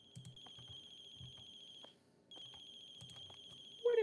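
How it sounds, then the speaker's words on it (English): Chirping ringtone of a cell phone in a horror video game, repeated short high electronic chirps in two bursts separated by a brief pause, faint and close, with soft game noises underneath and a quick rising squeak at the end. "Is your phone ringing? Yep. Chirping."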